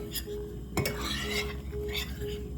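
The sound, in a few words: whisking cornstarch and flour mixture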